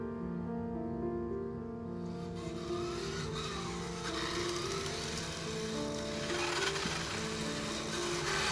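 Race car engine revving inside the Heavy Rain video game, a sustained harmonic engine drone rising and swelling steadily across the clip, fairly loud with no talk over it.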